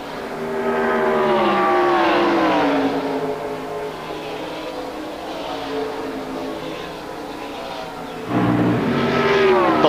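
Race cars lap Watkins Glen International during the 2000 Lysol 200, engines whining and shifting pitch as they pass, loud and fairly close, with a second car's engine surging in near the end.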